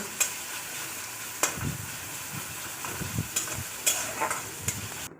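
Chopped onion and spices frying in a little oil in a kadai for pangas fish curry, a continuous close hiss of sizzling broken by sharp scrapes and knocks of a spatula stirring, no voices.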